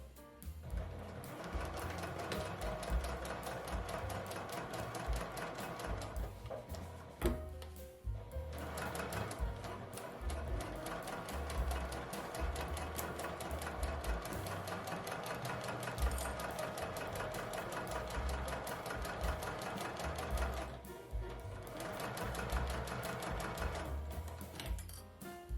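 A sewing machine stitches a clear vinyl pouch with a 3 mm stitch length, back-stitching at the start and end. It runs as a close, steady, rhythmic whirring with two brief pauses.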